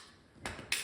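Metal knives are handled while a tool bag is being organized: two short, close metallic clinks, the second sharper, against a quiet background.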